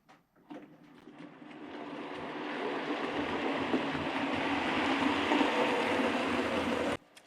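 A model railway branch line train runs steadily, its rolling rumble and faint clicking building after a quiet start, holding level for several seconds and then cutting off abruptly.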